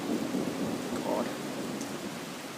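Night thunderstorm in Riga, with heavy rain hissing continuously and a low rumble of thunder rolling underneath, steady and fairly close throughout the short stretch.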